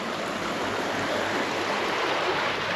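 Water rushes steadily through a sluice gate into the Kacha–Bakhchisaray reservoir canal, a constant broadband roar of moderate, even loudness with no breaks.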